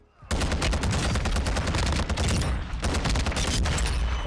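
Scar Heavy rifle fire in Warzone 2 starts abruptly after a brief quiet and holds as a loud, dense, continuous burst of rapid shots, near and unbroken for several seconds.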